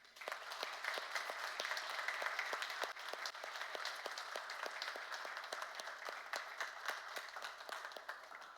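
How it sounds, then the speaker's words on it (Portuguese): A congregation in a church gives a sustained round of applause for the women on International Women's Day, dense steady clapping from many hands heard at moderate distance with no speech over it. "nós homens vamos dar aqui um aplauso às mulheres"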